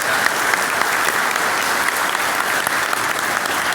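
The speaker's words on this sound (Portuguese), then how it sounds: "Mais uma salva de palmas, por gentileza." A crowd of people applauds at a public event honouring a football figure, giving a dense, steady ovation of many hands clapping together at full volume throughout.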